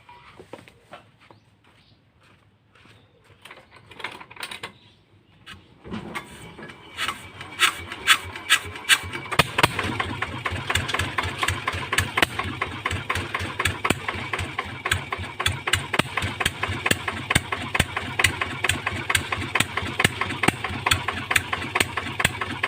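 An engine fitted with a new racing exhaust pipe cranks with a few clicks, catches, and settles into a fast, rattling idle with sharp rhythmic exhaust pops, close and loud throughout.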